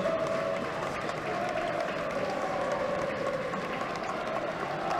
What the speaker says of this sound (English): Salford fans just starting to cheer.